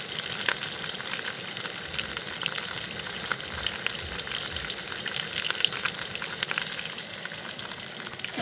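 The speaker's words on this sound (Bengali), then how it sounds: "এই যে ভাই মাছ ভাজা করছে।" Fish frying in a pan, a soft continuous sizzle and crackle with scattered pops and faint clinks, fairly quiet and steady, with no voices.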